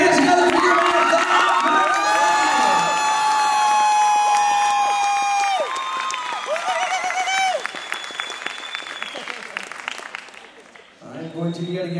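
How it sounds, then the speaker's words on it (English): At a small-town talent contest, an audience bursts into loud sustained applause with cheers, whoops and shrill whistles after a singer finishes, then gradually thins out and fades. "I'm going to yet again assume that that applause is not for Dan or I."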